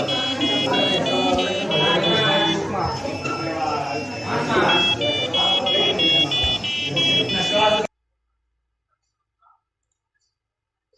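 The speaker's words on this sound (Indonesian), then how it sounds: "buzzer akan aktif dan menghasilkan suara" An Arduino-driven buzzer alarm beeps in a repeating pattern of high tonal pulses, steady and close, running for about eight seconds before cutting to silence.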